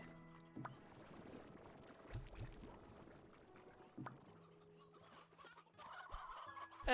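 Chickens clucking in Slime Rancher 2, several short clucks and squawks scattered among game tones and chimes, fairly close, with a louder burst toward the end.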